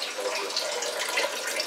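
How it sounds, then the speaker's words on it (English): Tap water runs steadily into a cooking pot at a home kitchen sink as noodles are prepared for carbonara spaghetti with bacon, a continuous close, even splashing hiss with no talk over it. "Fill this with water first."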